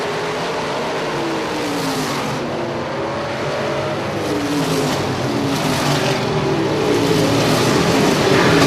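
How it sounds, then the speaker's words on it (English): Sprint race cars roar around an oval track in heavy lap traffic, a loud, steady wall of engine noise with overlapping pitches rising and falling as cars pass. "Dave Steele up in front looking to put Sport out of the number 88 car a lap down, but he's getting held up in heavy, heavy lap traffic"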